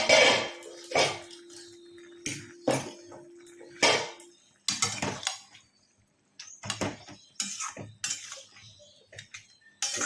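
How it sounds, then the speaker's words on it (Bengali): A lid is taken off a cooking pot of pumpkin greens, with sharp metallic clanks and clatters of pot, lid and utensil in short bursts, separated by quiet gaps. "তো ঢাকাটা এবার তুলে দেই"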